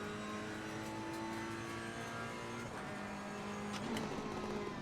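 Race car engine in Assetto Corsa Competizione drones steadily with sustained tonal harmonics, pitch shifting slightly as the car changes speed, loud and continuous without talk.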